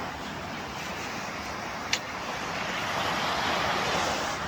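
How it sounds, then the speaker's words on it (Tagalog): A broad, steady wash of surf rolls on, the roar swelling slightly, with one brief sharp tap midway. "Ang ganda ng alon."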